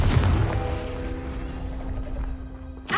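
A Confringo blasting spell from Hogwarts Legacy bursts with a loud boom, then a ringing tone hangs and fades before a sharp second hit at the end.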